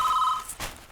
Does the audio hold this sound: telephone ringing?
yes